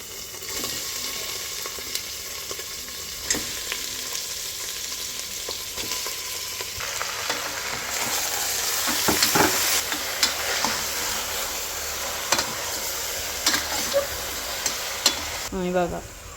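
Mutton, 1.5 kg, added to softened onions and frying in a pot, giving a continuous loud hiss and crackle with intermittent stirring scrapes and clinks, swelling louder midway.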